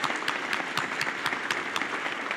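Audience applause at a civic State of the City event, a steady dense patter of many hands clapping, fairly loud and continuous, with no voices over it.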